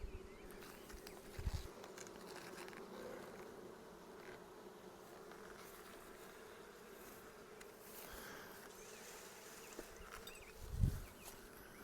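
Honey bees buzz in a steady, faint drone throughout a beehive inspection, with a couple of brief low thumps from handling the hive.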